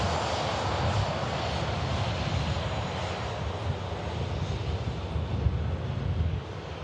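Boeing 737 engines at Manchester Airport as its flaps retract, a loud, continuous broadband jet roar with some wind buffeting on the microphone, steady throughout with no voices.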